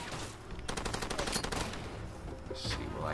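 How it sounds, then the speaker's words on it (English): Gunfire in the video game Far Cry 2 at a guard post, a dense run of rapid shots crackling over a loud, busy background for about three seconds, with no talking. "they're already shooting me"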